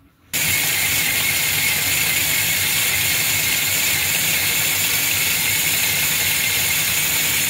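A Meccano model of a Brennan torpedo runs its gear drive at a 1-to-2 ratio, giving a steady, continuous mechanical whir and ratcheting hum that starts abruptly and holds constant, close and fairly loud.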